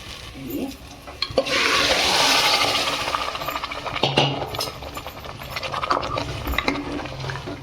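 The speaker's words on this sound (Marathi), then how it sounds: "आता मटण टाकून द्यायचं त्यात डायरेक्ट" Mutton dropped into fried masala in a pan bursts into a loud sizzle, then settles under repeated scraping and clattering stirs of a spoon against the pan.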